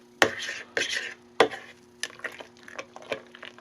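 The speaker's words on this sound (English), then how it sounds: "I'm going to stir all this down into the liquid" Fermenting cherries being stirred down into homemade sulphite-free wine, giving a series of sharp knocks and wet scraping strokes, several distinct hits spaced through the passage with quieter stirring between, close and fairly loud.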